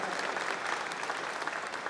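An audience at a ribbon-cutting speaking program gives dense, steady applause, many hands clapping at once at a constant loud level.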